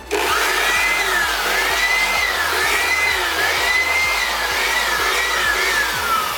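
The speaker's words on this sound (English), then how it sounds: "I just don't blow it too hard, so the fan will spin" Breath blown into a PC power supply fan, steady and loud, making it whir at a high pitch that wavers up and down as the blades spin up and slow, with a rapid low ticking underneath.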